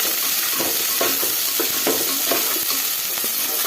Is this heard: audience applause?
no